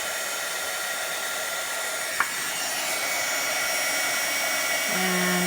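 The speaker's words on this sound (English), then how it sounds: "So now I'm just going to melt this with my heat tool." A heat tool blows steadily to melt embossing powder on a card, a constant airy whoosh with a small tap partway through and a slight change in tone near the end.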